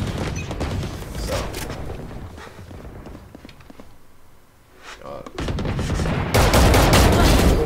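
Rapid gunfire crackles in Valorant while the player's character runs, loud volleys with footsteps, a brief lull, then heavier shooting, with people talking over the game.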